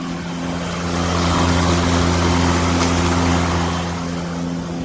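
A Bosch AdvancedRotak 750 electric lawn mower, 1700 watts, runs close by with a steady motor hum and whirring blade, swelling slightly in the middle, no voices.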